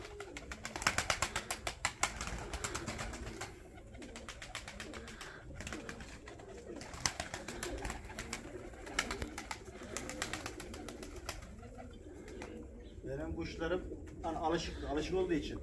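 Pigeons coo softly in short repeated phrases, mixed with people talking nearby and some rustling.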